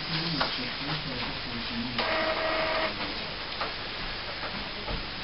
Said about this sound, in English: I'm going to switch the printer on.